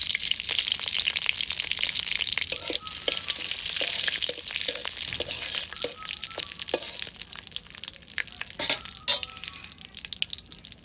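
Whole cumin, bay leaves and dry red chillies sizzle and crackle in hot mustard oil, with sharp popping bursts and occasional stirring clinks over a steady frying hiss.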